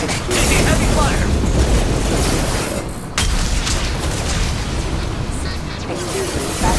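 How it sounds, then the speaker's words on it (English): Heavy gunfire and explosions in Mass Effect 2, a loud, unbroken roar of automatic weapons and blasts with a brief dip before the barrage resumes, character voices shouting beneath the din. "Heavy fire!"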